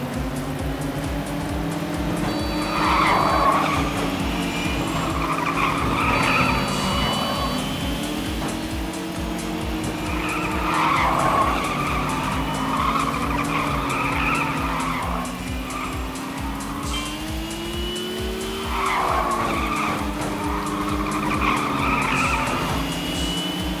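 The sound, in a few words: race cars skidding in the video game Little Racers Street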